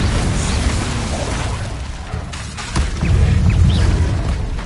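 The Confringo explosive spell in Hogwarts Legacy, with a loud, continuous rumbling blast and boom mixed with crackling magical effects, close and dense throughout.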